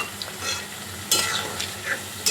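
Kofta curry gravy with cashew paste, sour yogurt and coconut milk is stirred in a pan, with a low simmering sizzle and a few sharp scraping strokes of a spoon against the pan.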